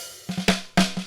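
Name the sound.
snare drum, top microphone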